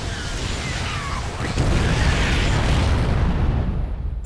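A big explosion in the real-time strategy game StarCraft II, a loud, sustained rumbling boom that swells partway through and rolls on without talk.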